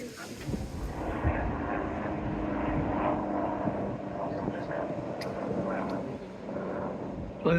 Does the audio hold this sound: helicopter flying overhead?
yes